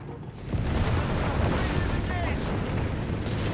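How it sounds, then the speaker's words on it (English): A Panzer III tank in Company of Heroes 3 fires its 50mm gun and machine guns: a dense, continuous wash of battle noise with rumbling booms and crackling fire, and a voice talking over part of it. "Panzer III letting loose here."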